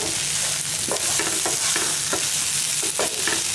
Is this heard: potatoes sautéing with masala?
yes